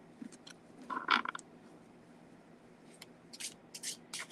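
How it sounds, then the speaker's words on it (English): A deck of cards is shuffled close by in several quick riffling bursts, with crisp fluttering and snapping at the start and a run of rapid shuffles near the end, in a quiet room. "Just get the shuffling here."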